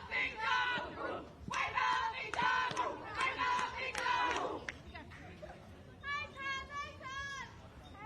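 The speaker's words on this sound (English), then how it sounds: "Australia win the cheering battle" A crowd of young voices chants and cheers in rhythmic bursts at a youth girls' softball game between New Zealand and Australia, loud group shouts, then sing-song chanting near the end.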